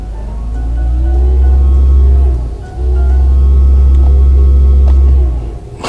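Synthetic acceleration tone of a Mercedes electric car set to the Vivid Flux sound profile, a steady low hum with slowly rising tonal layers that swells twice, with a brief dip between pushes and no talk.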